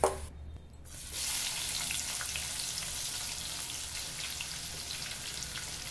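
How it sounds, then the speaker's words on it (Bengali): Mutton and onions fry in a kadai with a loud, dense, continuous crackling sizzle that swells in after a brief quieter start and holds steady. "এবারে কড়াইয়ে পেঁয়াজ দিয়ে মাংসটাকে ছেড়ে দেবো"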